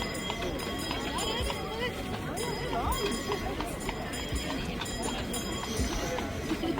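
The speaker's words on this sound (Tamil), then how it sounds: "இங்கே ஒரு குதிரை நிற்குது. குதிரை சவாரியும் போகலாம்." Horse hooves clip-clop on pavement at a Christmas market in Norway, an irregular run of nearby clattering steps under a crowd's chatter and a voice speaking close by.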